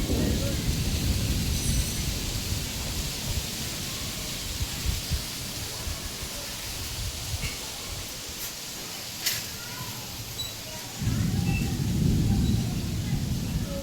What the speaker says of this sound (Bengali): দুপুরবেলা লাঞ্চ করার পর আমি ছাদে আসলাম বৃষ্টি দেখতে। এত জোরে জোরে বাজ পড়েছে